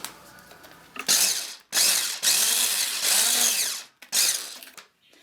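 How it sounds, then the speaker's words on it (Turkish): An electric mixer whips butter and sugar, whirring loudly in several bursts, its motor pitch rising and falling as it starts and stops, close by with no talking. "Mikserle çırpıyoruz."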